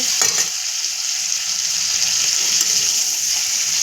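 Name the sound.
frying chicken with green chili in a pan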